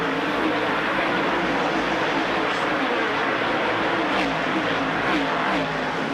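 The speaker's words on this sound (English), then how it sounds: "it gives you a dramatic view of what happens as those cars bullet off of those high-speed 36-degree bank corners" 1985 NASCAR Winston Cup stock cars blast off the steep 36-degree banked fourth turn at the Busch 500, a continuous dense roar of many engines with repeated pass-by surges, steady and loud throughout.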